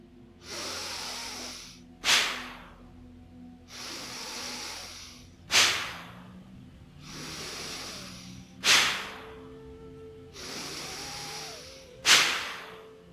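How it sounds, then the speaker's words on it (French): Deep yogic breathing through the nose repeats four times in a slow, even rhythm: each long, soft airy inhale ends in a sharp, forceful nasal exhale, close and clear, with no talking. "Une première respiration profonde et on expire."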